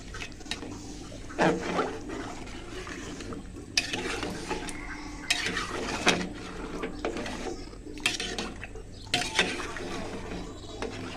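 Rice being stirred and fried in a pot for biryani, with repeated scraping and clattering strokes of the spoon against the pot over a soft sizzle, and no talking.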